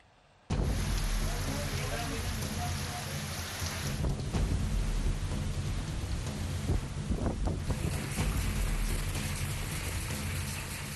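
Thunderstorm with heavy rain and rumbling thunder after a storm over Uttar Pradesh, a loud dense wash of rain and wind with deep thunder rolls, starting abruptly after a brief quiet moment.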